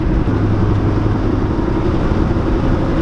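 Honda EG hatchback engine heard from inside the cabin, a steady low droning hum with a faint tonal note, continuous and fairly loud throughout with no talking.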